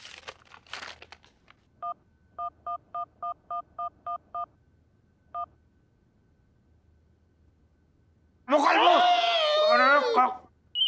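A phone number is dialed as a run of eight short, even keypad tones, then a lone tone after a pause, with a baby crying loudly near the end.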